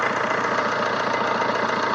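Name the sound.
Fiat Linea car engine idling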